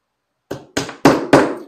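Four sharp hammer taps drive a wheel onto a model train car axle after a moment of silence, close and loud, each tap harder and quickly fading.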